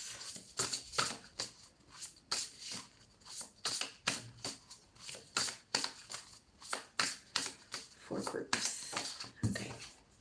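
Tarot cards are shuffled by hand for a pick-a-card reading, giving a rapid series of crisp riffling and slapping bursts close to the microphone, repeated in an uneven rhythm, with someone speaking softly at times.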